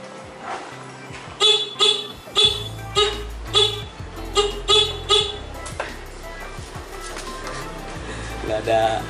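A stock motorcycle horn honks in a run of about nine short, thin toots in an uneven rhythm, loud and close, with someone talking briefly near the end.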